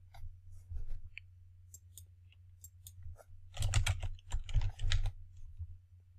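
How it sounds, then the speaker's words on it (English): Quick, light clicks of typing on a computer keyboard, a short burst of scattered taps followed by a denser flurry, close and fairly soft with no talk over it. "let's just type in par"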